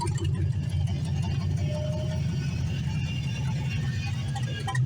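An LS-swapped Ford Foxbody that has been started on starter fluid runs with a steady, rough, low engine rumble, with a voice heard faintly over it.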